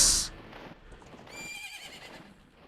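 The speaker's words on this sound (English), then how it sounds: "I just learned how to summon my horse." The horse Epona neighs in the Zelda Ocarina of Time video game, opening with a sharp bright burst, then a clear wavering whinny that trails off over soft background music.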